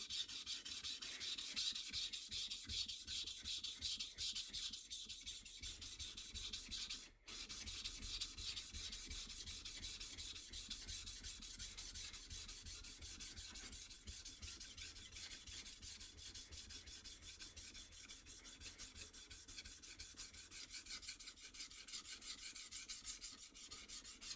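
A steel blade is ground against a 400 grit sharpening stone while finishing its bevels, giving a steady, continuous abrasive rasping that runs for the whole stretch at an even level, broken only by one brief pause near the middle.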